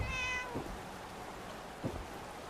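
A cat in the video game Fallout 4 Far Harbor gives a single short meow at the start, followed by a low ambient background with a couple of soft thuds.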